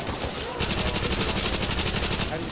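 Rapid automatic gunfire from the video game Call of Duty Nazi Zombies, a steady loud rattling burst that starts half a second in and runs on without pause, with some game noise underneath.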